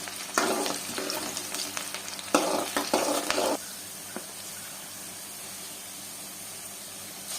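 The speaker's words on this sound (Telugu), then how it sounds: "ఎర్రగా వేగేంత వరకు వేసుకుంటాం." Food fries in a pan for a chicken curry, cooking until reddish. Bursts of stirring and scraping over a close sizzle fill the first few seconds, then a quieter, steady sizzle continues alone.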